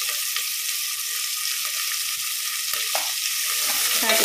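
Onions, cinnamon pieces and curry leaves sizzle and crackle in a hot pan of oil, a steady close frying hiss with occasional stirring scrapes.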